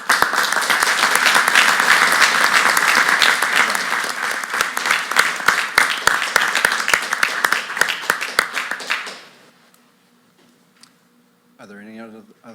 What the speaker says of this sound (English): I also just want to really applaud Supervisor Schultz for his award